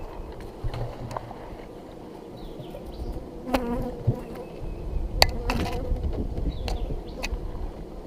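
Honeybees buzzing around a beehive outdoors, a dense steady drone with individual insects zipping close past now and then, plus occasional handling knocks nearby.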